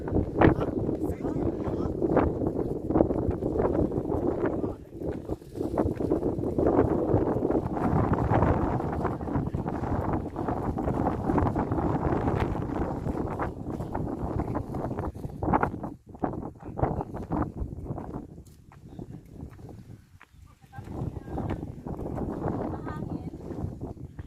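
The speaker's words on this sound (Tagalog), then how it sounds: "sobrang lakas ang hangin" Strong wind buffets the microphone throughout a hike on Po Toi Island, a continuous rough rumble that rises and falls in gusts, with people talking under it.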